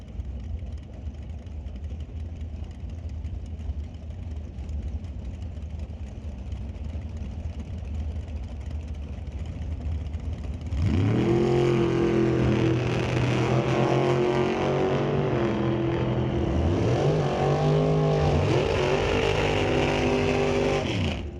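Drag racing at a strip, the Evil Bucket Chevy Roadster against the Quick Tech Race Cars Cameron Dragster: steady idling and low rumble for ten seconds, then loud engines roar up together with rising and falling revs as the cars launch and pull away.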